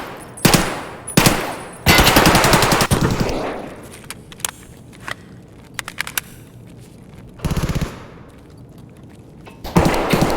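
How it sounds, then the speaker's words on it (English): Gunfire in a survival shooter video game, several bursts of rapid automatic fire and scattered single shots, some sharp and near, others fainter and farther off, with quiet gaps between. "Somebody's shooting down there."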